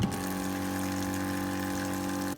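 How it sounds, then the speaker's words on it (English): A small electric water pump drones steadily beneath a camper van sink, a loud continuous hum with strong tonal bands and splashing water, running without pause and no voices. "But I don't really like how loud the sink is."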